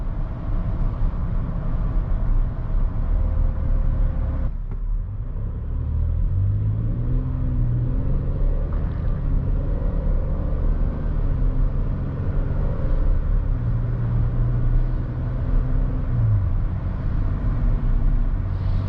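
A 2021 Chevrolet Traverse SUV drives on pavement and accelerates, a steady low engine and road rumble heard from inside the cabin with rising engine tones, continuous and moderately loud with no talking.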